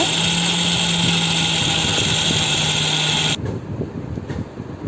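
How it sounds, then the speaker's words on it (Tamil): A kitchen mixer grinder whirs loudly as it grinds peanuts and sesame seeds, a high steady motor whine with a gritty rattle, running for about three seconds before abruptly switching off into quieter room noise. "கடலை எள் இது ரெண்டுத்தையும் மிக்சியில் போட்டு அரைச்சி எடுத்துக்கலாம்"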